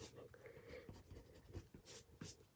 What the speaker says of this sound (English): I'm just going to get rid of that pencil mark.